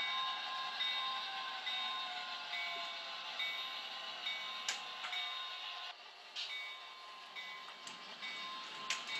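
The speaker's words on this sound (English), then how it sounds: "the train will stop as it did at the Corona Depot and pick up a few passengers" A Santa Fe model railroad train runs across a layout, a faint, steady high-pitched motor whine with light ticking and a few sharp clicks from the track, no voices.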